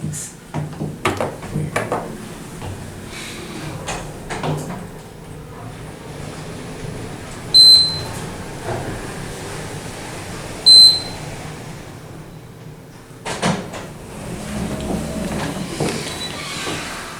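An OTIS Gen2 traction elevator at the Aloft Hotel in San Jose, California slows to a stop, with two short chimes, the doors sliding open with a rumbling clatter, and quiet voices in the cab.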